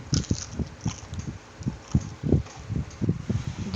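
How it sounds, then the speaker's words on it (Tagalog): Crunchy fried chicken wings bitten and chewed up close, a quick run of sharp crackling crunches in an irregular rhythm with no talking. "Pakinggan natin ang tunog ng crunchiness ng ating fried chicken."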